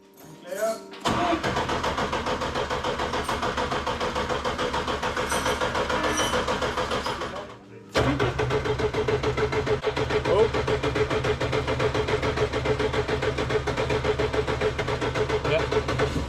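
A car named Esther cranks and fires up after a coolant refill, then settles into a steady, loud idle; it stops briefly and restarts, with someone talking over it.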